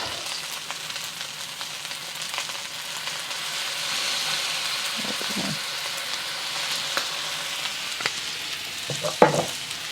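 Fried rice sizzles loudly and steadily in a hot pan while it is stirred and its clumps are broken apart, with occasional scraping knocks from the utensil cutting through the continuous frying hiss.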